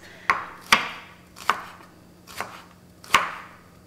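A knife dices onion on a cutting board in five sharp, separate chops at an uneven pace, close and crisp against near silence.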